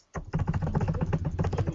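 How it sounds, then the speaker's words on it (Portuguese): Rapid computer keyboard typing picked up over an online video call, a steady close run of dense key clicks lasting under two seconds with no talking. "Tem um teclado aqui."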